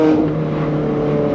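A Ferrari's warmed-up engine is revved while driving, producing a loud, close, steady mechanical roar through a short stretch without speech.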